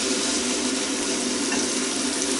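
Pieces of meat browning for stew sizzle loudly in a hot pan, a dense, continuous crackling hiss that stays constant throughout with no voices.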